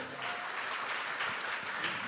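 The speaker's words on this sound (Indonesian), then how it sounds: "Berikan tepuk tangan yang meriah." An audience at a government ceremony marking Human Rights Day claps steadily, a moderately faint, even patter of applause filling a large hall.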